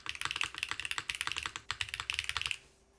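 Rapid clacky typing on a Han's NEO802 mechanical keyboard, dense bursts of crisp keystrokes close up, stopping abruptly near the end.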